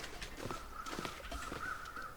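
A few harsh crow caws ring out against a quiet, misty outdoor background in the video game The Long Dark, one longer call trailing off near the end.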